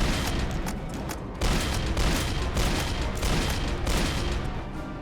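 Dense, rapid rifle fire crackles and booms without pause in the zombie-survival video game Dead Rails, loud and continuous with overlapping shots and no voices.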